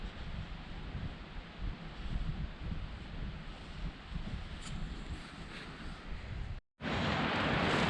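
Wind roars and buffets steadily outdoors on a cold mountain trail campsite near Lake Tahoe, a loud rumbling rush with a sudden brief cut before it returns even stronger.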